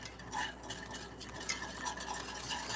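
A spoon stirs homemade banana pudding in a pot on a stovetop turned down to low, soft repeated scraping and clinks close by, quiet and unaccompanied by voices.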